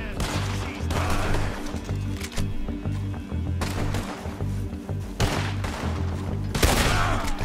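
Repeated bursts of gunfire in Red Dead Redemption 2 ring out in irregular volleys, loud shots clustered with short gaps between them, alongside game background sounds.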